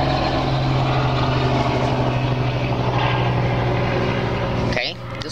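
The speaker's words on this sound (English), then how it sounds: "Let this helicopter go by." Helicopter flying by overhead, a loud steady rotor and engine drone sustained throughout before cutting off near the end, with some background noise mixed in.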